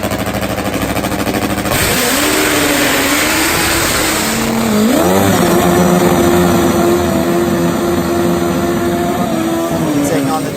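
A turbocharged top fuel racing motorcycle revs hard at a drag race, its loud engine note rising in a steady climb and then holding a sustained high roar with a second surge midway, close and continuous throughout.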